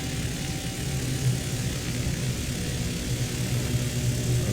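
Canadair water bomber engines throttle up in Microsoft Flight Simulator 2020, giving a steady, broad droning roar with a low propeller hum, even and unbroken throughout.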